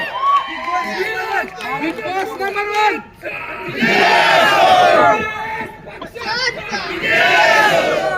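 A large crowd of young people at a political youth rally roars and chants in loud, surging waves with shouted voices, briefly dipping before swelling again.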